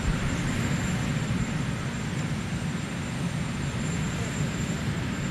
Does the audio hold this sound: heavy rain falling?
no